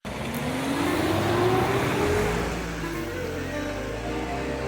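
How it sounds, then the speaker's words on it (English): A bus drives along in a film scene, its engine a steady low rumble with a rising whine and road noise, heard at moderate level throughout with no voices. "He gets into his bus and drives to Taipo"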